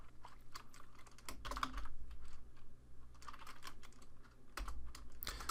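Keys clatter in quick, irregular bursts on a computer keyboard nearby, quiet and close, with short pauses between flurries and no voices.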